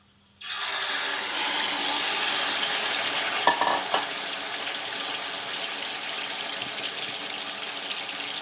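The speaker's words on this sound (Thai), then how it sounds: "น้ำมันเดือดแล้วนะคะ เดี๋ยวเราจะเทหมูลงไปนะคะ ลงไปทอดนะคะ" Marinated pork drops into boiling oil and starts frying right away, a sudden loud sizzle that stays steady and close, with a brief clink partway through.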